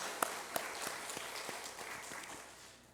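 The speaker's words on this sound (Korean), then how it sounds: "우리 박수로 환영하겠습니다" A church congregation applauding to welcome a new member during a Sunday service, a faint, sparse scatter of claps fading out within a few seconds.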